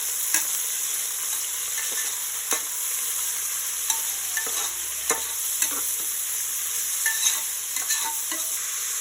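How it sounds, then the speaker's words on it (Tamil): Five green chillies sauté in a pan for South Indian tomato rice, a close, steady sizzle broken by regular sharp scrapes and taps of a spatula stirring, with no voices. "அஞ்சு பச்சை மிளகாய் நல்லா பச்சை வாடை போகிற அளவுக்கு வதங்கணும்"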